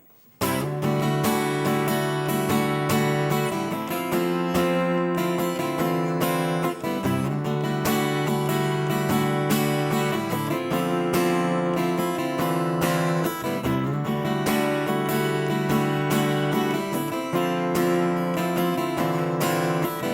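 Guitar plays the intro riff, a loud, dense riff cycling repeatedly with steady rhythmic accents, alone without talk.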